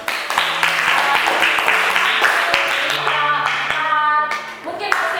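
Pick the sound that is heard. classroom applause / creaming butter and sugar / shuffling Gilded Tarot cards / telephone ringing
classroom applause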